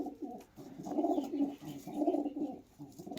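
A racing pigeon coos in a loft, two soft, low rolling bursts of cooing close by, with a brief pause between them.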